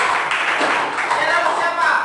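A class applauding a student group in an Indonesian classroom, a steady patter of many hands clapping close by for about two seconds.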